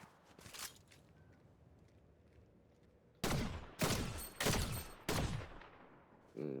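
Several sharp gunshots in the video game Fortnite ring out in a quick cluster, each a loud, punchy crack with short decay, following a quiet stretch with a faint early shot.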